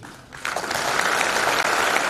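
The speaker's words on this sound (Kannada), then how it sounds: "ಈಗ ಹೇಳಿ ನಮಗೆ ಚಪ್ಪಾಳೆ ಹೊಡೆದ್ರಲ್ಲ" A sustained round of audience applause at a talk in the Ramakrishna Vivekananda Ashram in Dharwad, starting abruptly and holding loud and even, with a brief gap near the end.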